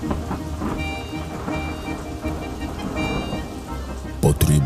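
Heavy rain pours down steadily, a dense hiss over a busy mix of music and sound effects, with a brief louder burst near the end.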